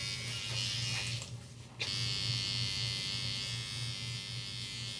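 A barber's electric hair trimmer buzzes steadily and close during an edge-up on a fade, with one brief dip in the hum before it resumes at full strength.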